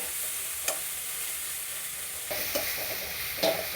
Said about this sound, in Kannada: ಹಾಗಾಗಿ ಲಾಸ್ಟಲ್ಲಿ ಹಾಕ್ಕೊಂಡು ಸಣ್ಣ ಉಗುರಿಲಿ ಒಂದು 5 ನಿಮಿಷ ಚೆನ್ನಾಗಿ ಹುರ್ಕೊಳ್ಳಿ.